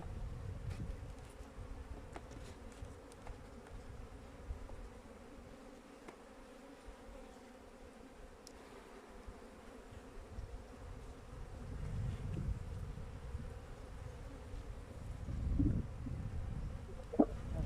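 Honeybees hum steadily around a hive frame outdoors while a hive is being strengthened, a continuous close buzz with a few louder passes near the end.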